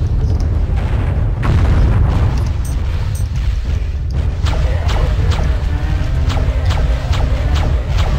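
A loud, continuous low rumble with booming shakes and scattered crashing impacts, dense and heavy throughout: the whole level shaking in the video game Hexen after a boss is killed.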